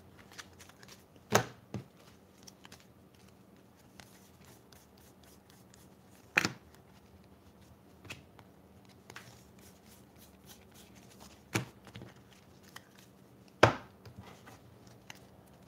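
Jumbo packs of 2018 Bowman Draft baseball cards being handled during a full case break, with sparse soft shuffles and several sharp snaps and flicks spread over quiet stretches.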